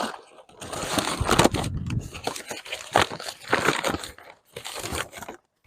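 Paper being crumpled and stuffed into gaps of a parcel box being packed, a crinkly crushing rustle in bursts with brief pauses, close by.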